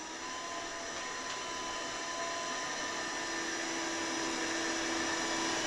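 A Hobot-198 window cleaning robot runs steadily on a bathroom mirror, giving a continuous, fairly quiet motorized whir with a faint tonal hum and no talking.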